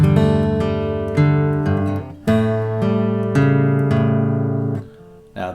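Acoustic guitar plays a measure of a chord melody arrangement of a song, with several plucked chords and paired notes ringing out clearly and closely in a slow, steady rhythm.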